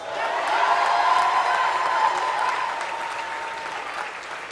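An audience claps at a USC graduation commencement ceremony, a sustained wave of applause that swells, holds for a couple of seconds, then gradually thins out, with a few faint whoops.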